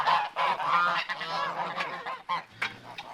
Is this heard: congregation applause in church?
no